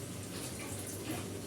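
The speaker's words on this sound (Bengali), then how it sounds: "এবার শাকটা ধুয়ে নেই, বালতির মধ্যে দিয়ে ধুয়ে নিব।" Leafy greens for an aloo shak dish being rinsed in a bucket of water, a steady close sloshing and trickling wash with small splashes and no talk.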